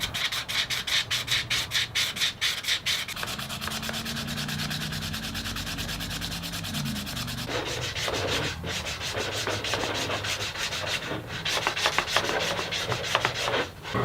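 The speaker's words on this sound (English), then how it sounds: "Now I'll just finish it up with some hand sanding." A hollowed-out wooden salt cellar is hand sanded with close, continuous rubbing strokes, rhythmic scratching at first, then a steadier rasp with quick bursts of strokes.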